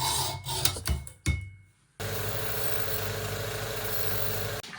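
A guitar truss rod is cut through with a steady, loud rasping saw stroke of about three seconds, following a few short scraping and knocking sounds during a neck repair, with no talking.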